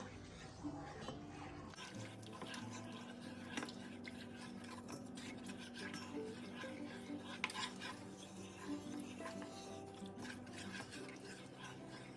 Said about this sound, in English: you want to stir as you slowly add this